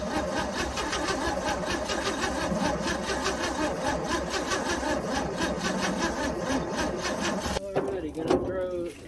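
A 1966 Chevrolet C10 truck engine, long left sitting, cranks steadily with the fuel pump off, a continuous rhythmic churning of the starter that runs for several seconds before stopping, loud and close.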